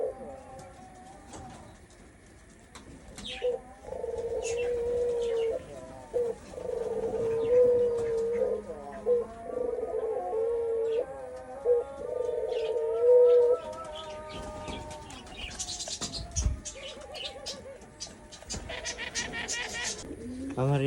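Pigeons in a village pigeon loft coo again and again in low, throaty calls, close and continuous, with occasional chirps and a voice talking quietly underneath.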